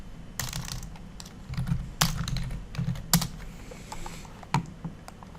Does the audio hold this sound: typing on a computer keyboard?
yes